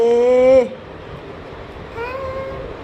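A cat meows loudly and close, with a long harmonic cry, followed after a pause by a second, softer meow.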